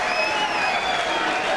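Crowd at a six-round professional boxing bout between Matty Askin and John Anthony, a steady roar of voices and clapping filling the hall, with a sustained whistle-like tone riding over the noise and no clear speech.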